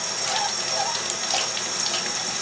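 Warm tap water runs steadily into a clinic sink, rinsing mineral-oil eye lubricant off a cat anesthesia mask, a continuous close splashing flow with no talk.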